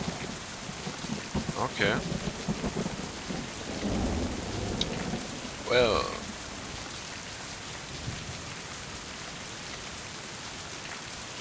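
Rain and thunderstorm in Mind: Path to Thalamus: a continuous wash of falling rain with a low rumble of thunder swelling midway, while someone speaks briefly over it.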